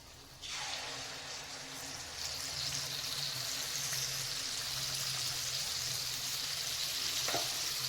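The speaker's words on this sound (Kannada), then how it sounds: "ಇದು ಕೂಡ ಈಗ ಕರೀಲಿ ಎಣ್ಣೆಯಲ್ಲಿ." Pineapple malpuri, a sweet Indian puri, fries in hot oil with a sudden burst of loud, steady sizzling that holds and slightly intensifies, close up, with no speech.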